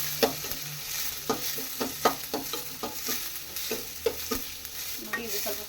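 Chopped onions fry with cumin, mustard seeds and curry leaves, a bright sizzle broken by a rhythm of repeated scraping stirs close by, with no talk.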